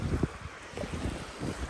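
Gusty afternoon wind buffets the microphone outdoors at Pointe Louise on the waterfront, a steady low roar with brief louder puffs and no voices.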